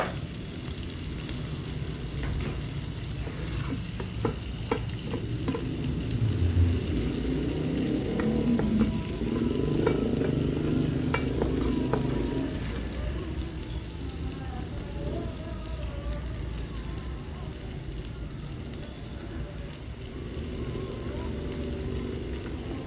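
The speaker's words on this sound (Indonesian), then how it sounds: "Ini aku masukin bumbunya untuk menumis" Steady sizzling of spices sautéing in a multipurpose pot, a continuous crackle with occasional louder bursts, close by and with no talking.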